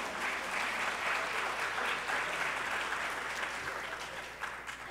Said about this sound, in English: applaud that as well